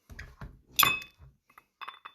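A large ice cube knocks and clinks against a glass at a lakeside cottage: a few soft bumps, then one bright ringing clink, followed by quieter taps.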